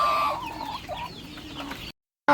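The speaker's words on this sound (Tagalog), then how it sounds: "This is the way I call my chickens" Chickens clucking close by at a farm during feeding, a busy run of overlapping clucks and calls that cuts off briefly and then returns.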